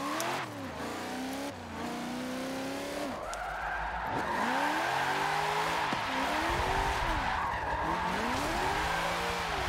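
Drifting car in Forza 7 on Xbox One, driven with a Moza R3 wheel: sustained loud tire squeal over a rising and falling engine that revs and swoops through corners, continuous and close throughout.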